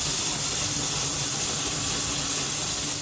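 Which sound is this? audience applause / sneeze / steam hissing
steam hissing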